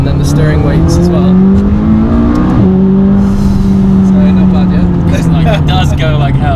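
A McLaren 570S sports car in sport mode drones with a loud, steady engine note that rises, dips briefly as it shifts, then pulls on again, heard from inside the car with someone talking over it.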